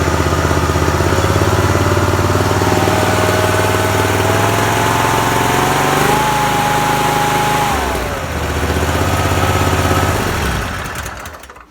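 A John Deere F725 riding mower's engine runs loud and close with a steady, throbbing idle, its pitch rising slightly, then dropping and settling before it shuts off at the end.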